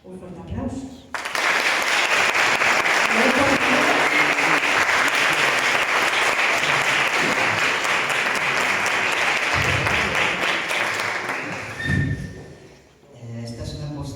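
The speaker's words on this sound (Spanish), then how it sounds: "Un fuerte aplauso." Loud, sustained audience applause at a vocational training graduation ceremony, rising abruptly and holding steady for about ten seconds before fading, with a few voices heard around it.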